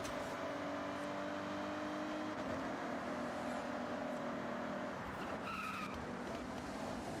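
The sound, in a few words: Toyota Supra car driving in Forza Horizon video game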